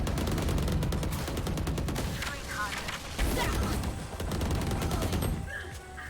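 Rapid gunfire from Neon's ultimate in Valorant, a dense continuous stream of shots lasting several seconds with brief gaps, loud and up close, with a voice talking over parts of it.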